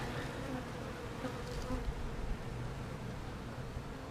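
Honeybees buzz around a beehive in a soft, continuous drone, the hum steady and fairly faint, with no talking over it.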